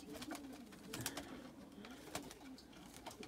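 Pigeons coo inside a loft, low throaty calls rising and falling over sharp clicks and wing or foot taps, faint and close with no talking.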